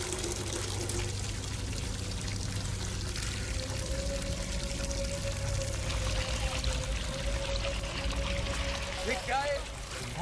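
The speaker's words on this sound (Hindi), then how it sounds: "अपने शुभ हाथों से नल चलाकर पानी निकालो" Water gushing steadily from a hand-operated pump into a bucket, a continuous pour lasting throughout, with a faint tonal squeal from the pump near the end.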